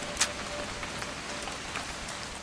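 Rain in the video game What Remains of Edith Finch, falling during a father and daughter's hunting trip, a soft, steady patter with scattered drop ticks and one sharper splash near the start, fairly quiet, with no voices.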